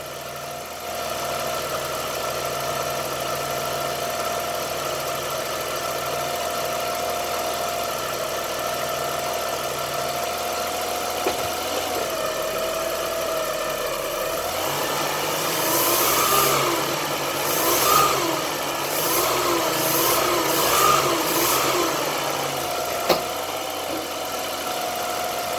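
Ford Falcon BA/BF engine with a broken engine mount idling with a steady hum, then revved several times in short bursts near the end, moderately loud and close, no talk.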